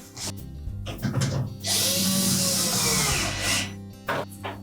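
A screw is driven in with a power drill while a Whirlpool washer is being reassembled, giving a close, loud sustained whir of about two seconds between short mechanical clicks and handling noises.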